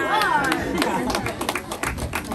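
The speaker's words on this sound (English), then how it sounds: "Bend forward at the waist and give a round of applause" A tour group in a line along a wall at the Mystery Spot in Santa Cruz, California, clapping a round of applause, with sharp repeated claps over crowd chatter and movement, fairly close.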